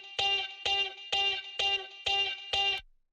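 A dry synth melody sample for complextro, without effects: six evenly spaced, bright, buzzy stabbed notes repeat in a steady rhythm, each abruptly cut off, then stop. No voices.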